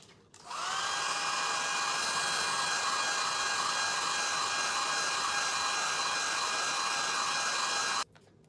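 A hair dryer blows on a stencilled decoupage canvas bag, switching on abruptly and holding a steady, even whine for about seven and a half seconds before cutting off.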